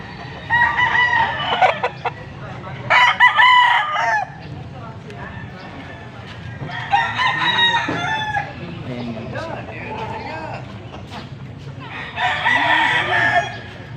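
A young gamecock stag crows loudly and close by, four long cock-a-doodle-doo calls spaced a few seconds apart, with softer clucking and faint background noise between them.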